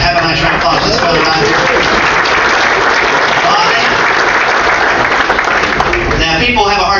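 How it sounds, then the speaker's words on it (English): Audience applauding a correct trivia answer, a dense, loud and sustained wash of clapping that holds steady throughout. "Have a nice round of applause."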